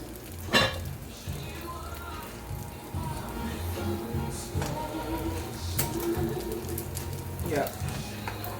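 Meatloaf-style burger patties crackle and sizzle in a frying pan, a steady close hiss with scattered pops running beneath a person talking.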